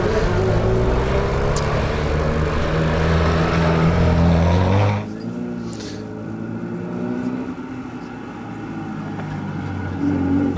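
Gavin Molden's Datsun race car accelerates on a hillclimb run, its engine loud and close at first, then dropping off abruptly and fading into a distant drone as the car climbs away, no talk.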